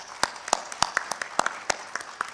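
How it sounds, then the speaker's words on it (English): Sparse clapping from an audience at an African conservation agriculture congress plenary session, a handful of distinct hand claps spaced irregularly rather than a full ovation, fairly close and moderately loud. "So please give a round of applause to this group."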